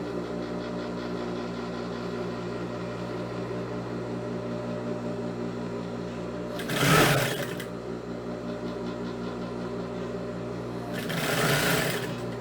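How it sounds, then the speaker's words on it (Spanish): A sewing machine stitches fabric for a puff-sleeve sack dress, humming steadily at close range with a pitched motor whine, broken by two short louder bursts of handling noise. "Y ahí vamos cosiendo."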